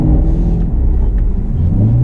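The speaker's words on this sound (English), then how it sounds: "Now, if you hit the wheel and floor it." Chevrolet Camaro engine droning loudly with a low, steady rumble as the car is floored and drifted through snow, heard up close from inside the car without talk.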